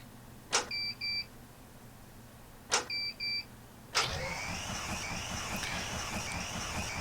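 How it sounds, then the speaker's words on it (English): A Lancair Legacy in the FSX flight simulator runs its startup: two pairs of electronic beeps, then the engine catches and settles into a steady, low rumbling idle with a faint whine above it. "I think at this point I'm starting up the engine"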